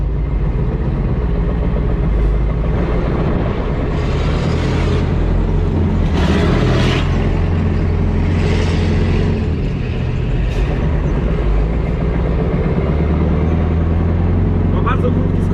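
A Scania 6x6 truck with a V8 engine sets off and drives, its deep engine drone and rising revs steady and close beneath ongoing conversation inside the cab.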